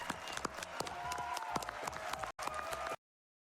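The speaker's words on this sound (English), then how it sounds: "We got the crowd on their feet." A large crowd at a charity speedrun marathon applauds and cheers in a dense, steady roar of clapping that cuts off abruptly after a brief dip.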